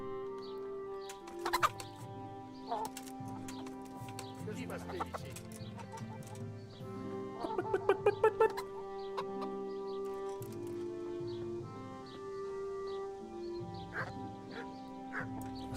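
Hens in the video game Kingdom Come: Deliverance cluck in short bursts, with a few louder squawks partway through, over a looping synthetic musical backdrop with some voices.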